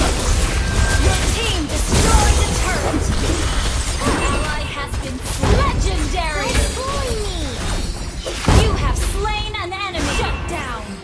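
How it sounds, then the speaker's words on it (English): A turret being destroyed during a Mobile Legends: Bang Bang match, with repeated crashing and shattering impacts amid dense, busy battle effects and fast chirping skill sounds, loud and continuous with a voice over the top. "destroyed a turret."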